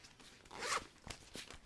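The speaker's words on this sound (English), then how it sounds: "where was the zipper for the this particular bag?" A zipper on a bag is drawn open in one quick, close rasp, followed by a few soft handling clicks and rustles.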